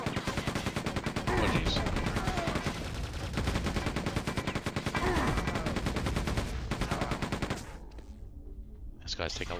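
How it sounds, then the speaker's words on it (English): Rapid machine gun fire in the shooter game Quake II 64, a dense continuous burst of loud shots that runs for several seconds before cutting off, with a faint voice underneath. "These guys take a lot of machine gun fire."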